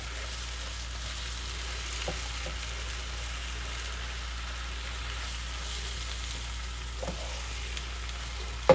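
Spinach wilting down in a frying pan, a steady low sizzle and crackle running throughout at moderate level, with a few faint stirring clicks and a sharper knock near the end.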